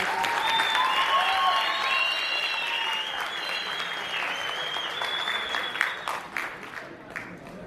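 A room full of people clapping steadily, loud at first, then thinning out into scattered claps as it dies down.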